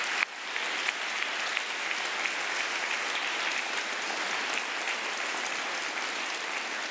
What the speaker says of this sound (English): please join me in a round of applause for all those who work to make this possible